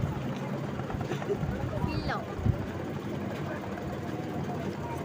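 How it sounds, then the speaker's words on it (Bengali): A boat setting off on a river trip to a temple, with a low steady engine hum running throughout under people talking. "এবার আমাদের নৌকা ছেড়ে দিয়েছে এবার আমরা যাচ্ছি"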